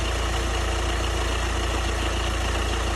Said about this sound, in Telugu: మనం ఇంజన్ స్టార్టింగ్లో నాయిస్ రికార్డ్ చేస్తూ ఉన్నాము